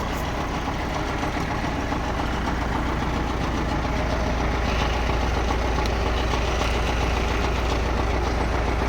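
A tractor engine runs steadily during orchard spraying, a continuous low rumbling idle with a slight knocking texture, close and even in loudness throughout with no talk.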